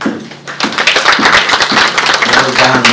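An audience applauds after an economist finishes a talk at an apparel and footwear industry launch in Kenya: clapping, fairly near and loud, grows fuller after a thin start and runs about three seconds.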